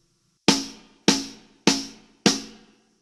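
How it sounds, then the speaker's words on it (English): Four loud, sharp rim shots on a snare drum, the stick striking the rim, crack out at an even pace, each with a bright attack and a quick decaying ring, with nothing else playing. "A rim shot is when the middle of the stick hits the rim of the snare drum"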